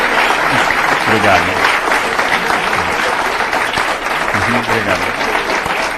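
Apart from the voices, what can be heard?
applause for a lecturer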